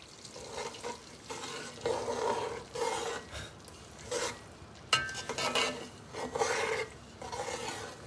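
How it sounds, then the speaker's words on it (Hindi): Semolina roasting in ghee over a low flame for suji halwa, with rhythmic raspy scraping strokes of a spoon through the grainy mixture in repeated pulses over a soft sizzle. "घी में डाल देंगे, ऐड कर देंगे इसको और इसको भूनेंगे हल्की आंच पे"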